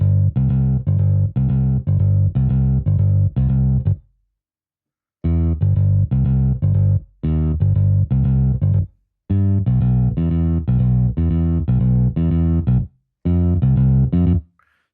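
UJAM Virtual Bassist bass samples play in loud, sustained phrases of repeated plucked notes, broken by two short gaps of silence, with no talking.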